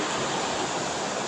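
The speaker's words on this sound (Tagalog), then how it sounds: "Ito pala guys yung shower niya." A running shower in a bathroom during Typhoon Kristine gives off steady, even broadband water hiss, close and continuous, with no voices.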